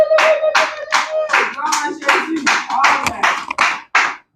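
A church congregation claps together in a steady, rhythmic beat of about two claps per second, loud and close, with a faint voice running beneath the early claps.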